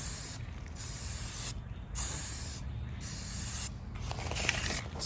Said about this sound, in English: Spray paint smells good.